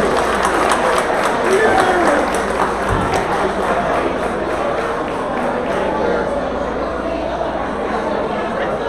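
Audience applause at a boxing awards ceremony honoring a Lifetime Achievement Award recipient: a loud, steady wash of clapping and crowd chatter that fills the hall throughout.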